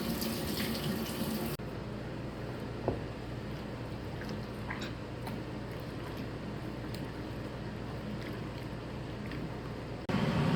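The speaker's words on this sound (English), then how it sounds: "So I'm just going to do one more rinse on these to get all the nasty stuff" Berries rinsed under a running kitchen sink tap for homemade jam, a steady close rush of water with faint clinks, the flow briefly louder at the start and end.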